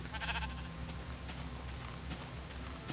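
Sheep in the video game Minecraft bleat while being sheared with iron shears, the wavering bleats sounding up front and fairly loud over a steady dense background of game noise.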